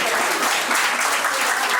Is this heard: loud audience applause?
yes